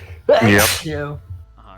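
A single loud, close sneeze bursts out, followed by a few brief spoken words from people nearby.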